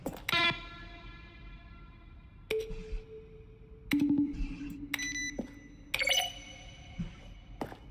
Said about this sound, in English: Each sound is a mix of keyboard strokes and a synthesized tone.